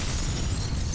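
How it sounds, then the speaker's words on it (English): A loud, sustained rumbling blast with heavy low-end roar and crackling noise throughout, a big explosion in the video game F.E.A.R. "that was a commanding explosion"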